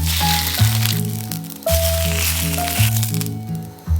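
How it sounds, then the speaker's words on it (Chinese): A Korean cabbage pancake fries in a pan over medium-low heat, giving a steady crackling sizzle under loud background music. "把白菜放进锅子里面，煎到两面金黄"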